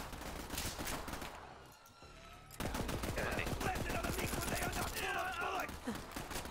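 Rapid bursts of gunfire from Moze's weapons in the video game Borderlands 3, with dense, loud volleys broken by a short lull, and a player talking at points.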